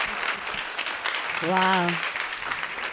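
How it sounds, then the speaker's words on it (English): Audience applause for a panel at a leadership talk event, a steady wash of clapping from a crowd with a voice briefly exclaiming over it. "Let's give our panelists a good round of thanks."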